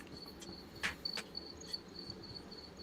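Crickets chirp outdoors at night in faint, high, repeated pulses over a quiet background hiss.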